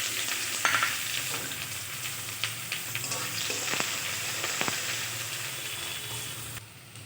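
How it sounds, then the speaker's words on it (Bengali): Chopped onions sizzle and crackle steadily in hot oil with dry red chillies, whole cumin, cardamom and cinnamon for a soya chunk curry, with occasional stirring scrapes in the pan, close and continuous. "দিয়ে দিচ্ছি কোচানো পেঁয়াজ"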